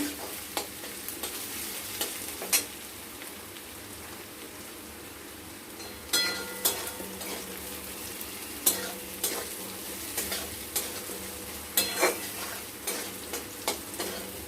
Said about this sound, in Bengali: পেঁয়াজটা প্রায় ভাজা ভাজা হয়ে এসছে, আলুটাও ভাজা ভাজা হয়ে গেছে।